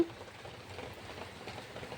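Steady rain falls in a rural setting with a mud stove, a dense even patter that lasts the whole stretch at moderate loudness, with no one talking.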